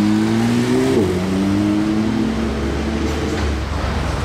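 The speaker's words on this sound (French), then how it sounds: "Et la Porsche est de retour." A Porsche sports car revs close by, its engine note rising and then dropping sharply before settling into a lower, rumbling pull that fades slightly, with no voices.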